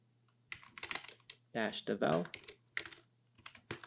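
A computer keyboard typing a command on a Linux machine, with close bursts of quick key taps and a longer cluster in the middle, against a quiet background.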